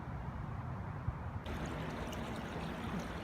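A small creek tributary of Sligo Creek flows past a little pool, giving a steady, soft rush and trickle of running water nearby with no voices.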